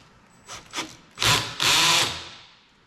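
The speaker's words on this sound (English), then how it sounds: "We need to put it in drill power mode" A power drill with a driver bit, set to drill mode, whirs in short bursts: two brief pulses followed by two longer, louder runs, with no talking.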